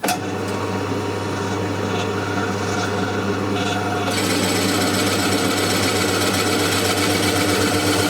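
Forstner bit drilling into a guitar body, a steady loud droning whir with a low hum throughout and a slight rise in brightness partway through.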